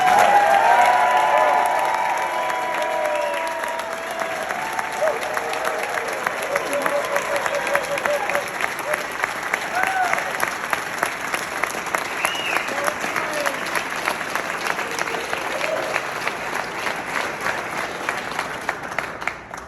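A large crowd at a charity gala applauding loudly and steadily, with scattered cheers and whoops rising over the continuous clapping.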